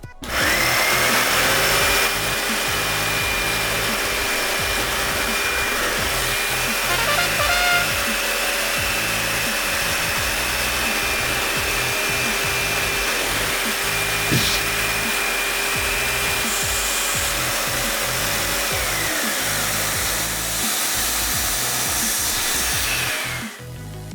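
A dust collector's loud, steady suction roar at a DIY jigsaw table with an aluminium-frame dust board, running continuously and close by for over twenty seconds without any talk.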